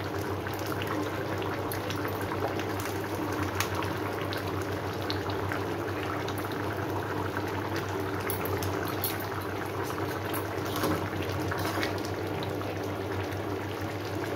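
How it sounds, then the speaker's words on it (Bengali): Jackfruit curry boils in a pot, a steady close bubbling and gentle sputter that runs without break for the whole stretch. "দেখুন আমার তরকারিটা কি সুন্দর ফুটছে।"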